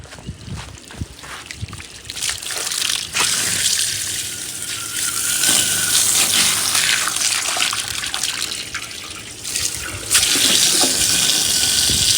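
Water flows and splashes steadily into a drain while a washroom floor is being cleaned, with loud bursts and a surge near the end, and no voices.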